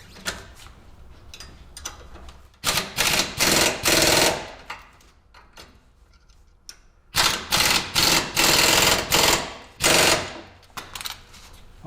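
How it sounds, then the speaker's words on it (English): A power tool tightens bolts on the torsion arm of a Camso 4S1 UTV track fitted to a Daihatsu Hijet, firing loud, rapid rattling bursts, several in quick succession, with short quiet gaps between. "Now we tighten these two top bolts"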